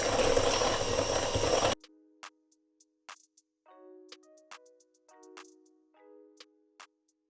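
Sweet potato pie filling with nutmeg and spices being beaten: a short burst of dense, loud whirring mixing under two seconds long, then sparse light clinks and taps with quiet gaps between them.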